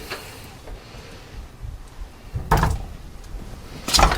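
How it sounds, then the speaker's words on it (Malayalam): A metal cooking pot slips from a hand and clatters onto a home kitchen floor, two sharp bright crashes ringing out a moment apart amid quiet kitchen background. "എൻ്റെ കയ്യിൽ നിന്ന് പാത്രം താഴെ പോയി"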